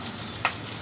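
Onions sizzling in hot oil with seasoning seeds and peanuts for upma, a low steady frying hiss with one brief brighter crackle in the middle.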